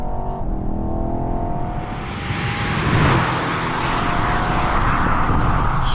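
Alpina B8 accelerating hard on the unrestricted Autobahn from about 80 to 180 mph, a steady, loud engine and wind roar that swells around the middle and stays dense throughout, with no talk.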